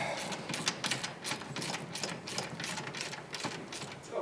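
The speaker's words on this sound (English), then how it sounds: "Just going through and tightening everything up." A ratchet tightening bolts on a CFMOTO ZFORCE 950 H.O. EX build in a shop, a rapid run of close clicking strokes in uneven bursts, with no talking.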